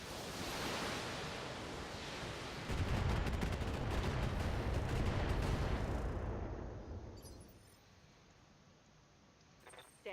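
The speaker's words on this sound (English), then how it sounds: "Firing all weapons." A BattleTech mech fires all its weapons in one barrage: a dense roaring burst of cannon and missile fire that swells loudly for a few seconds, then rumbles and fades to near quiet.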